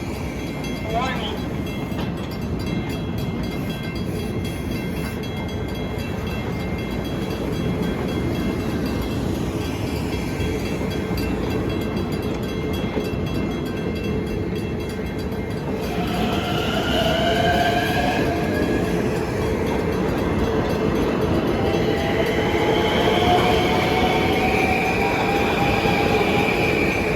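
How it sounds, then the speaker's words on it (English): A Grand Central to Ronkonkoma commuter train rumbles steadily as it pulls out of Bethpage station, with wheels squealing in high, drawn-out tones during the second half and faint voices in the background. "this is 2070 from Grand Central to Ronkonkoma pulling out."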